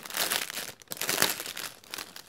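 Crinkly plastic packaging of washi tapes handled up close, with continuous loud crackling and rustling that swells and dips with brief pauses.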